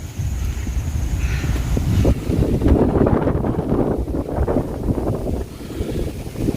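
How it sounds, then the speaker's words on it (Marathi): Strong wind buffets the microphone on a hilltop at Sinhagad fort during the monsoon, in loud, gusty rumbles rising and falling in waves with a faint airy hiss above. "इथे खूप वारा आहे"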